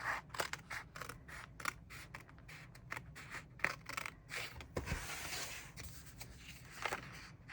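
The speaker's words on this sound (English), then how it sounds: "we take our scissors and trim this down" Scissors trimming paper for a journal spread, a rapid run of close, crisp snips and rustles that continue steadily over a quiet room hum.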